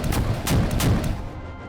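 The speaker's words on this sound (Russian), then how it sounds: "Пока что смотрим на выстрел одной ракеты." A rocket launcher fires in the video game Space Engineers, giving a quick volley of several sharp blasts in rapid succession, loud and close, then a fading tail.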